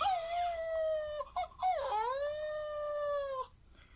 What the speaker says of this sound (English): make him howl.